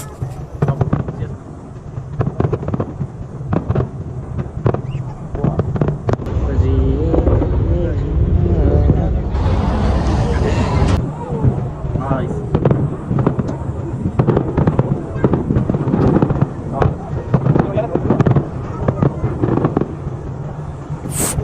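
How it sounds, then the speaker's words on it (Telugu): Fireworks show bursting over boats on a Bangkok dinner cruise: continuous booming and crackling explosions, loud and dense throughout, with a sharper, brighter barrage near the middle. "ఇదే టోటల్గా క్రాకర్స్ అనేది ఒక్కొక్కటి ఒక థీమ్లో వస్తుంటాయి."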